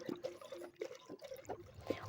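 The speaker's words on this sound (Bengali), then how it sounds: "অনেক কষ্টে আমি দেড় লিটার দুধকে কড়াইতে ঢালতে সক্ষম হয়েছি" Milk, about one and a half litres, poured from packets into a kadai (wok) while making date-palm jaggery payesh; a soft, continuous liquid pouring and trickling sound close by with small splashy bursts.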